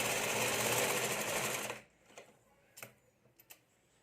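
Sewing machine stitching the lining and main fabric of a katori blouse, a fast close mechanical whir that stops abruptly partway through, followed by a few faint clicks and taps.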